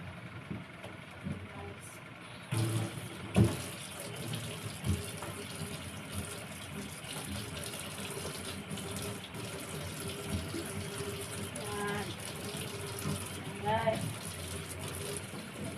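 Tap water runs steadily into a sink while cooking pans are washed, with scattered knocks and clatter of cookware and a person talking over the flow.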